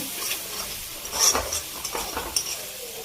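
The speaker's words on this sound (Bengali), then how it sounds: "মশলাটা একটুখানি নাড়িয়ে নেব।" A spice paste with cumin powder is stirred in a hot pan, soft sizzling under a few brief scraping and clinking strokes of a spoon against metal, close and fairly loud.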